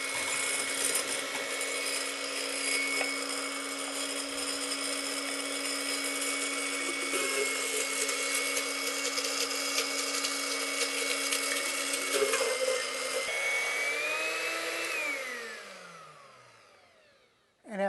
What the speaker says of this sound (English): you want to turn the blender on first and then add the hot liquid to it